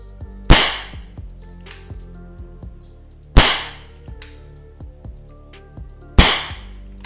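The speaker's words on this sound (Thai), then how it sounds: "ตัวนี้นะ ปอกเพิ่มความแรงที่เราสั่งมาเพิ่มนะครับ จะมาลองยิง" A Wingun 701 airsoft pistol fitted with a power-boost sleeve fires three sharp, loud cracks at even intervals of about three seconds, each followed by a short ringing decay, with no talk.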